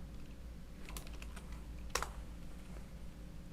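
Light typing on a computer keyboard, a few soft scattered key clicks with one sharper tap, close and faint over low background hum.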